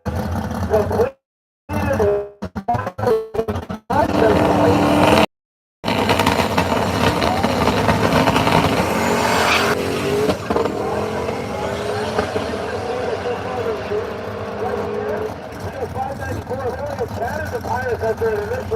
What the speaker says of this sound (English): He's driving the 2002 single turbo S10 pickup truck.